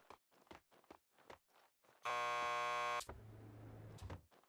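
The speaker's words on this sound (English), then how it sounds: "Just press the buzzer by the door." A loud electronic door buzzer sounds in The Punisher video game, a harsh steady tone lasting about a second between footsteps and other game noises, followed by a lower mechanical hum.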